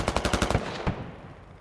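A rapid burst of coaxial machine gun fire from an armored vehicle in a military video game, about eight quick shots in a steady rhythm, then a single louder cannon shot fading into a rumbling tail.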